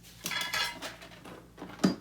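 A toy teacup handled among dishes, giving a few light clinks and taps of china against other tableware, faint and close, with no talk.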